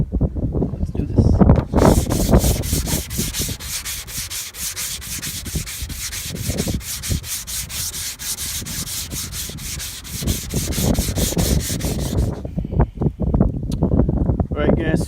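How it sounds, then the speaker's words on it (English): 500-grit sandpaper is rubbed over a car's painted body panel to dull the shine, giving continuous rapid back-and-forth scratching strokes up close, with brief handling noise before and after. "500 grit, just to sand off all the shininess."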